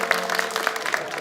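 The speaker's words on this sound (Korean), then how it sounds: "뜨거운 박수." A short burst of audience applause at a human rights concert welcoming a guest's mother to the stage, brisk clapping with a few louder individual claps and a faint steady tone underneath.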